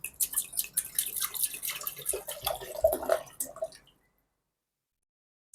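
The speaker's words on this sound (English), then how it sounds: "I'm going to pour 1 liter of water." Water poured into a Philips HD9378/80 electric kettle, a close, steady splashing and trickling for about four seconds that stops abruptly, leaving silence.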